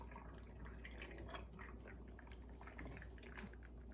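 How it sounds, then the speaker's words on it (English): Chicken stock pours into canning jars of Zuppa Toscana soup, a quiet trickling and gurgling stream of liquid with small splashes and bubbling, close and continuous. "Pour chicken stock over it."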